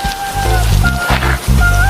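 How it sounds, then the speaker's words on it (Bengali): Steady heavy rain patters loudly and continuously through a short rainy-day cartoon scene, mixed with tonal music. "বৃষ্টি তো আর থামার নামই নিচ্ছে না"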